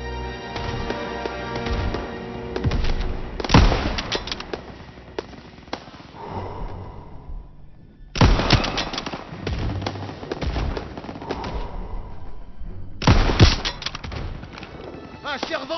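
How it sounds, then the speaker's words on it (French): Bursts of rapid anti-aircraft gunfire crackle in three loud clusters, with battle noise and rumbling in between, in Call of Duty: WWII, firing at Stukas. "Soit des tirs de DCA là-bas!"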